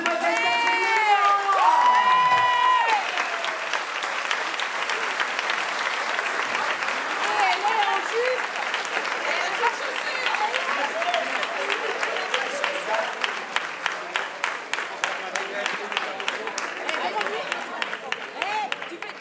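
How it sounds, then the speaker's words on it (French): A crowd applauds and cheers the new French champion at a 2014 awards ceremony. The applause is sustained and loud, with shouts and a voice over a microphone at the start. It breaks into rhythmic clapping toward the end. "Un tonnerre d'applaudissements, mesdames et messieurs, pour la nouvelle championne de France"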